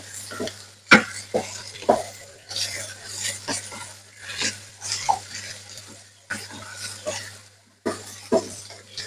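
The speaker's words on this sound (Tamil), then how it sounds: "இந்த எண்ணெயில எனக்கு இந்த சவு சவு காயும் வதங்கணும் அதுபடியா நல்லா கிளறி விட்டு கொள்ளுவேன்" Chopped chow chow (chayote) vegetable stirred in hot frying oil in a pan, with a steady soft sizzle broken by irregular scraping and clinking strokes of a spoon against the pan, while a person talks over it.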